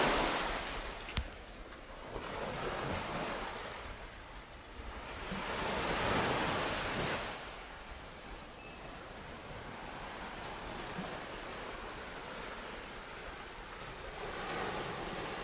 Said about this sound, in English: let you hear the slapping of the surf